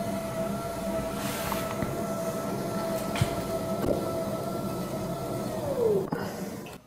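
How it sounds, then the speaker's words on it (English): A VORII ElementDesk V2.0 standing desk with dual motors raising or lowering makes a steady mechanical hum with a faint whine that drops in pitch as it stops near the end, with no voices. "the manufacturer claims that the VORII desk is about 45 decibels when it's raising or lowering"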